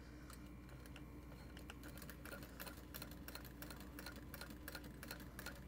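A sewing machine top stitching a garment panel in a quiet, steady run of fast needle ticks with faint irregular clicks, very soft throughout and free of speech.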